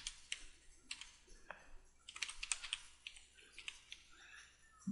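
Close computer keyboard typing while Python code is entered, irregular bursts of crisp key clicks with short pauses between them and no talking.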